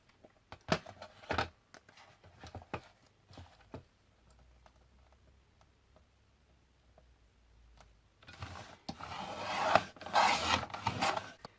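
Cardstock for a birthday card is trimmed with a paper trimmer, a series of soft scraping and tapping handling sounds followed by a longer rasping slide of the blade through the paper.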